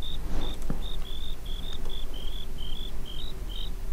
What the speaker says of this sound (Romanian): Au zis greierii.